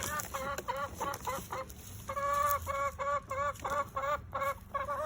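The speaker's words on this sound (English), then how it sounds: "She's my noisy chicken. She makes more noise than anybody." A hen in a garden clucks repeatedly in short bursts of rapid, nasal calls, with brief pauses between bursts, loud and close.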